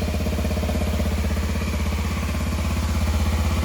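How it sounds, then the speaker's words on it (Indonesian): A Kawasaki Ninja 250SL motorcycle with stock exhaust idles steadily up close, a low, even throbbing exhaust pulse with no talking. "jadi suara knalpotnya ini seperti ini, yang dihasilkan dari knalpot standar"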